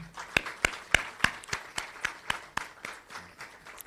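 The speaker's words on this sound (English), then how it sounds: "Let's all give the Minister a well-deserved round of applause." Scattered applause from an audience at a United Nations youth dialogue event, heard as sparse, distinct hand claps in an irregular rhythm, fairly faint and tapering off, with no speech over them.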